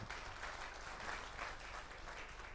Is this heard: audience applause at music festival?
yes